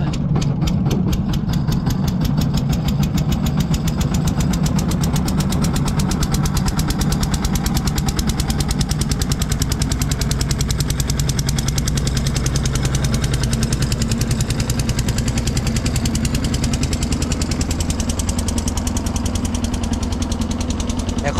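A boat engine on a crossing of the Brahmaputra river, a loud, close, steady knocking throb that runs unbroken without pause.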